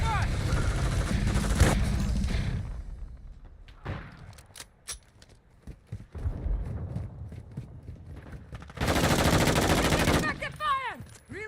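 Bursts of rapid gunfire crackle through a video game firefight, with sharp single shots between two loud sustained volleys, and voices talk in the gaps.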